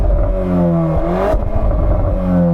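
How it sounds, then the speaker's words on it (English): A Volkswagen Golf R with its standard exhaust revs hard while parked, the engine note rising and falling in loud, close blips with a throaty exhaust edge and no voices over it. "Go on, give it some revs."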